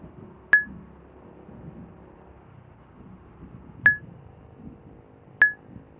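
A mobile phone sounds a proximity warning at night on Balete Drive, three short sharp beeps spaced irregularly a couple of seconds apart, clear above faint background rumble.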